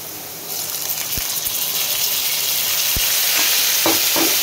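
Water poured onto potatoes frying with spices in a pan, a loud steady sizzle breaking out, with a few sharp taps of a utensil on the pan.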